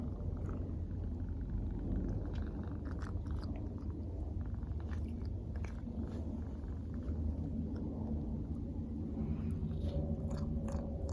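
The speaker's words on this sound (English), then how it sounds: "See if you can hear her purring." A steady, close cat purr rumbles low and continuously throughout, with faint rustling and occasional soft clicks on top.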